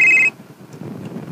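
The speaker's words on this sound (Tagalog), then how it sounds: "Cellphone." A cellphone ringtone chirps loudly for a brief moment at the start, then cuts off, leaving faint low murmuring voices in the background.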